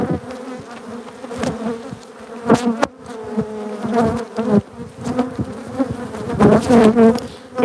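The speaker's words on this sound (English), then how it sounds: "I'm just going to shake these bees off this box." Bees buzzing as they are shaken off a hive box: a dense, agitated swarm hum close by, swelling and dipping, broken by several sharp knocks and thumps of the box.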